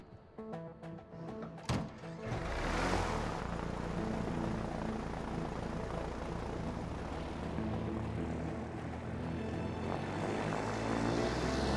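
A propeller airplane engine in the video game A Way Out starts with a few sputtering knocks, then settles into a loud, steady, droning roar that continues without break.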